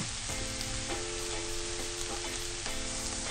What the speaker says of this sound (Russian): и жарим до испарения жидкости.